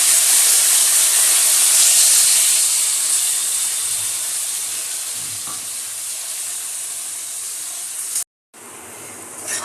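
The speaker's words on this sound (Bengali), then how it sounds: "দেখো ঝোলের জন্য মশলাটা এবার কষে নেব।" Spice paste for a curry gravy hisses and sizzles in hot oil, a steady close frying noise that gradually softens before a brief break and resumes faintly.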